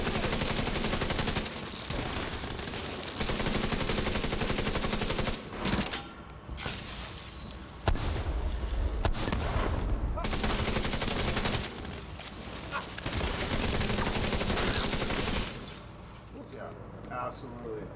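Dense gunfire and explosions in a video game, with sustained bursts of rapid shots and blasts broken by short gaps, loud and continuous, with a player talking over it.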